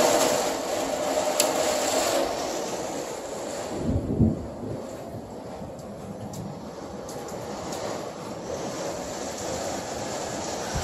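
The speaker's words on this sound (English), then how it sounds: "Wind keeps changing direction" A summer storm's wind roars steadily against the microphone, loud and continuous, with a brief heavier gust partway through.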